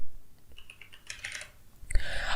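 Someone types a password on a computer keyboard at a desk. Quick clusters of close clicking keystrokes run in an uneven rhythm and end in a louder burst of taps, with no voice over them.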